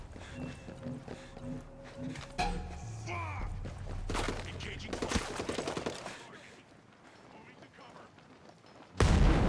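Bursts of automatic and single gunfire in Ghost Recon Breakpoint, dense cracking volleys in the middle, fading to quieter ambience before a loud final burst, with voices speaking over the action.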